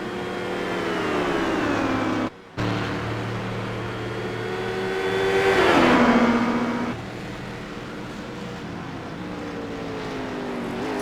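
A prototype race car in a Sebring sim race drones loudly through the final corner, its engine tone sliding down as it brakes and shifts, then climbing again on the exit.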